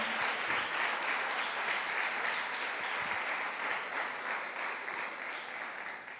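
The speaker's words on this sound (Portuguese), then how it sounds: "você pode dar uma linda salva de palmas para Jesus" Steady applause from a church congregation during a Quadrangular worship service, a dense, even wash of clapping that holds throughout and fades slightly toward the end.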